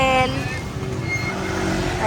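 A motorized tricycle in El Nido passes close with a loud, steady low engine rumble and road noise, and a brief tonal sound at the start.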